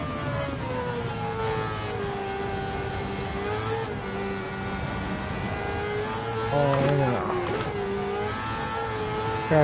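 A Honda NSX engine revving steadily in Gran Turismo arcade mode at Kyoto Driving Park, a loud, sustained whine rising and falling with gear changes and a brief tire squeal midway.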